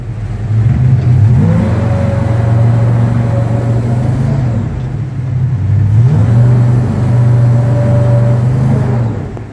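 A 22-foot North River Trapper 350MPI boat with a Kodiak engine driving in reverse, a loud steady motor drone that swells twice as throttle rises and falls, heard alone up close.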